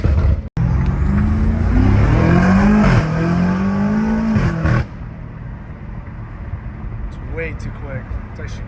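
A 617 hp BMW M5 Competition accelerates hard, its engine note climbing in loud rising sweeps through a couple of gear changes before settling into a steadier cruising drone.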